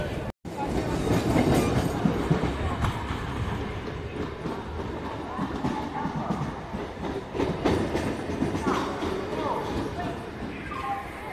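A crowded suburban commuter train on the Sealdah–Bangaon line runs steadily toward Barasat station, a loud continuous rumble with rhythmic clickety-clack of wheels, heard up close from inside the carriage with faint voices underneath.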